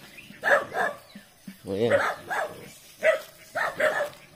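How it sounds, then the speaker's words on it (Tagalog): Several dogs bark and yip close by at a rural provincial home near a wooded area. The barks come in repeated bursts, and a voice speaks briefly over them. "Ang daming aso niya dito."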